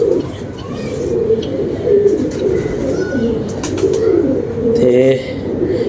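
Pigeons coo steadily in a loft, soft repeated throaty calls close by, with brief chirps overhead and background movement throughout.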